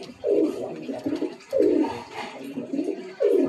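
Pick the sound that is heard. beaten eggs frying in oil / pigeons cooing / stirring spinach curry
pigeons cooing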